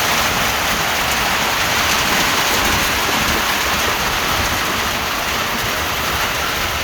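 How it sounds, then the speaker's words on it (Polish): Heavy rain pours down in a steady, dense hiss, with water rushing through gutters and splashing constantly nearby, in the village of Nadrybie. "Ale zlewa. Zobacz, cały rynnami woda zasuwa."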